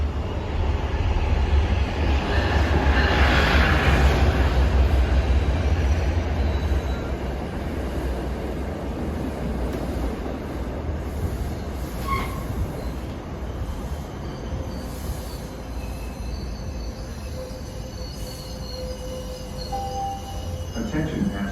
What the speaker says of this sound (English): the next Alewife train is now approaching on the Ashmont platform